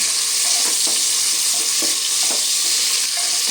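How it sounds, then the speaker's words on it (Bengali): Round-sliced onion rings frying in hot oil in a pan, a constant loud sizzle broken by repeated scraping stirs every half second or so, no voices. "পেঁয়াজটা খুব ভালো করে ভেজে নেব"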